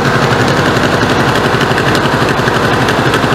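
A 1986 Honda Goldwing GL1200 SE-I motorcycle engine runs with an exhaust leak, giving a loud, steady rapid chuffing and popping close up, continuous throughout with no voices.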